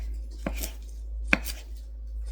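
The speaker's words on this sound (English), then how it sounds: "you want to chop it so much that it's like really fine" A knife finely chopping guacamole ingredients on a board, two sharp close knife strikes about a second apart with brief rustling after each, no talk.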